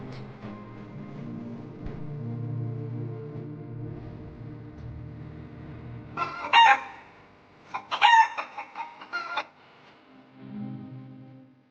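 Chickens cluck and squawk in short bursts over a low droning background, a couple of louder crowing calls standing out before things quiet down.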